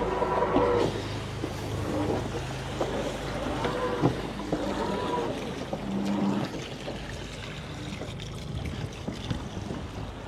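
A racing sailboat at sea in very light wind, giving a steady wash of water trickling along the hull with soft wind noise and occasional creaks throughout.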